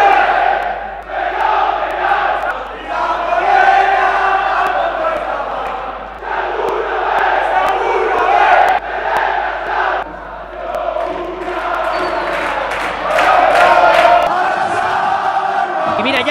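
A large stadium crowd at Vallecas, Rayo Vallecano's ground, chants loudly and rhythmically in the stands near the end of a match, voices rising and falling in unison with bursts of cheering.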